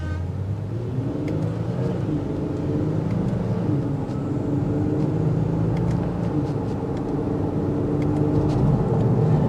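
A 2024 Nissan Pathfinder Rock Creek pulls away from a stoplight, its engine a steady, loud, low rumble that builds gradually over about ten seconds, heard from inside the cabin with no talking.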